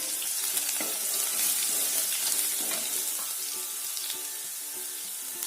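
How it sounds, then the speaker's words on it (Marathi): Crushed garlic fries in a pan with a steady, even sizzling hiss and occasional soft stirring clinks throughout. "ठेचलेला लसूण टाकायचा"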